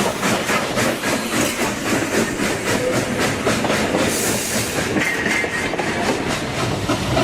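A passenger train on the Niles Canyon Railway rolls along the rails and over bridges with a loud, steady rumble and rhythmic clickety-clack of wheels, close by and continuous.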